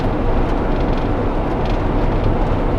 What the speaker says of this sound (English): Got the train up here.